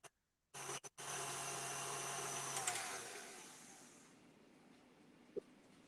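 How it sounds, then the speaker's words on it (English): KitchenAid stand mixer beating eggs for a keto bake, a steady whirring motor drone that starts after a few clicks, holds loud for a few seconds, then winds down to quiet. "Now you've got to tell everyone what you're mixing over there, Glenn, in your KitchenAid."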